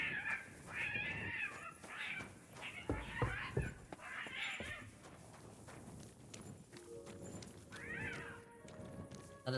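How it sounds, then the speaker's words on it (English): Cats in Final Fantasy XIV yowl and screech at each other in a fight, with several rising and falling cries over game ambience and soft footstep-like clops, moderately loud. "That is the first time I've heard cats fighting in this game."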